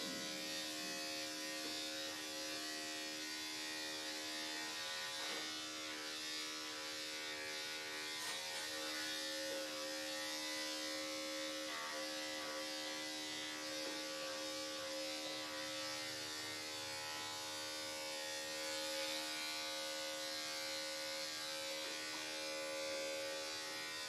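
Electric clippers buzz steadily and continuously while trimming a senior rescue dog's head fur down by about a quarter inch, with a close, constant motor hum.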